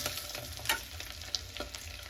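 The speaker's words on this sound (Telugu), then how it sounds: "1 మినిట్ ఎగ్స్ ఇలాగే ఫ్రై చేసుకోండి" Boiled eggs being fried for egg biryani crackle quietly in a pan, with repeated soft scrapes and taps of a spoon over a faint low hum, and no speech.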